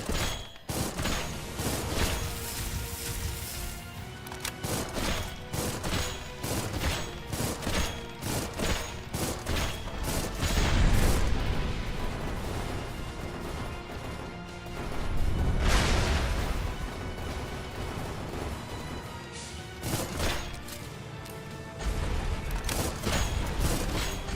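Gunfire in the Armored Core mech combat game: sustained rapid bursts of shots and heavy impacts, loud and dense throughout, with two louder explosive swells midway and no pauses in the barrage.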